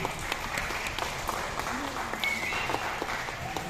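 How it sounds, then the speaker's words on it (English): An audience at a sea lion show claps along, scattered hand claps under a lively background of voices and crowd noise, moderately distant. "Come on, clap your hands, everybody!"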